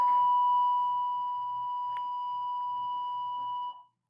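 A bell rings with one steady, sustained electronic-sounding tone that holds for nearly four seconds before cutting off, loud against a quiet room.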